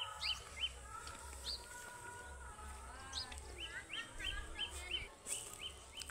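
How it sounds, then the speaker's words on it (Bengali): Bird calls ring out in a rural yard on a winter morning where cattle are kept, with several sharp, repeated chirps and trills at moderate distance over a low rumbling background. "মাছরাঙা, এটা হচ্ছে মাছরাঙা ডাক,"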